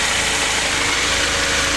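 A Honda Prelude engine idles steadily at close range during ignition timing work, a continuous even rumble with a faint regular knock, alone with no talk.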